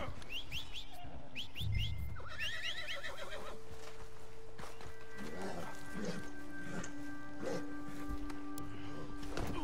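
A video game horse neighs and whinnies several times in quick succession, with hoof clip-clops and a brief spoken line mixed in, followed by steady game background tones.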